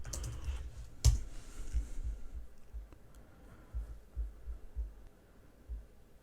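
Soft keystrokes tap out a command on a computer keyboard, a handful of scattered quiet clicks over a low room hum with no talking.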